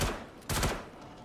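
Gunfire from a firefight at a Hurston bunker in the video game Star Citizen, a loud burst of shots close by that swells in the middle of the clip and then tails off, with no talking.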